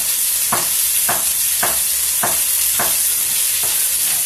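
Country style ribs browning in a pan for an Italian dish, giving a loud, steady close sizzle and fry with a series of evenly spaced soft stirring or scraping strokes under it, and no talking.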